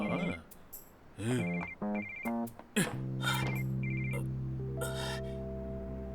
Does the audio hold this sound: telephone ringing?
yes